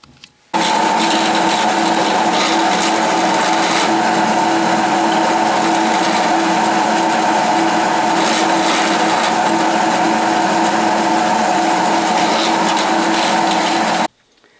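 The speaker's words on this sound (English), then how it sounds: "over to the drill press I go" A Delta variable speed drill press runs steadily, drilling a 1/4 inch hole with a continuous whirring motor hum and bit noise that starts abruptly and cuts off near the end, close and loud with no talk.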